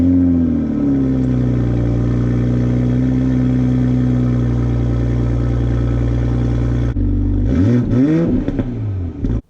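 A 2020 Toyota Supra 3.0 Premium engine, loud and close, runs with a steady, even drone for about seven seconds, then rises through several sharp revs that climb and fall back.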